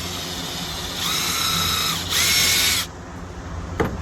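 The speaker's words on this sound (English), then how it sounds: "Drill that." A power drill with a 3/32 bit whirs in two short bursts, about a second each, drilling a small hole, close and loud, then stops, followed by a faint clack.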